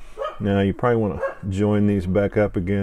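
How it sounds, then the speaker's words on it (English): A dog barks repeatedly nearby in short bursts while someone talks over it. "Sorry for the barking dog."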